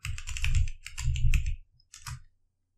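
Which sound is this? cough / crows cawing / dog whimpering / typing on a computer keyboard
typing on a computer keyboard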